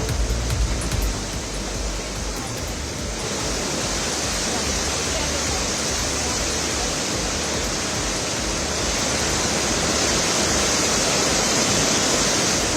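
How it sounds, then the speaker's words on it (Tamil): Floodwater of the Asan river in Dehradun after heavy rain rushes past, a loud, unbroken roar like a waterfall that fills the whole stretch without pause. "உத்தராகண்ட் மாநிலம் டேராடூனில் தொடர் மழையால் அசன் ஆற்றில் கடும் வெள்ளப்பெருக்கு ஏற்பட்டுள்ளது"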